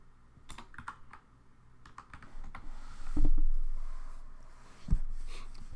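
Someone types a command into a terminal on a computer keyboard with quick, irregular keystrokes and a couple of heavier key thumps, close and fairly quiet.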